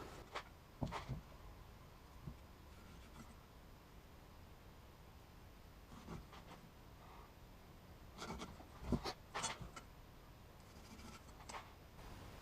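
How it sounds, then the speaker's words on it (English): A pencil drawing a straight line across a wood blank being marked out for a six-sided bowl, giving a faint, close scratchy rub in a few short strokes over a quiet hiss. "I'm going to draw a straight line for where the spots intersect the circle"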